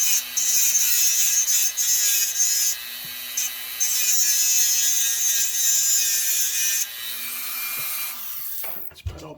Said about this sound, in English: So I take my Dremel.